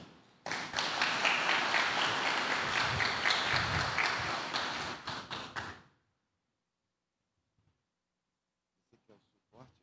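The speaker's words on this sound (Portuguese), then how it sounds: "recebamos com a salva de palmas o reverendo Alexandre" A church congregation at a men's conference gives a loud, full round of applause to welcome a reverend, many hands clapping steadily for about five seconds before cutting off into near silence with a few faint sounds.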